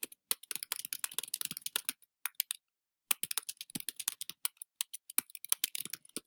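Rapid keystrokes clatter on a computer keyboard in quick irregular bursts, with a short pause in the middle. The typing is close and quiet, with no speech.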